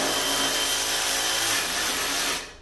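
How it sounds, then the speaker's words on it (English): A 7/16 socket on a ratchet or driver removes a nut from a snowblower chute bolt, giving a steady, loud, broadband whirring grind for over two seconds before it cuts off abruptly. "I'm just going to go ahead and remove the nut."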